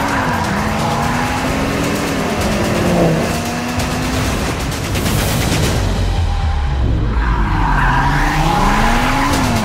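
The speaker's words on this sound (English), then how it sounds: "that unique 5-cylinder sound will forever be synonymous with Audi" Audi RS3 five-cylinder engine running hard like a race car, loud and continuous with rising and falling revs and tire squeal across the whole stretch.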